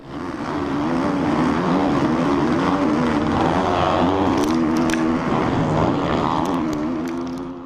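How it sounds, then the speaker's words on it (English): A motocross bike rides along with a steady, loud engine drone that holds throughout without pause. "Let's ride a motocross bike."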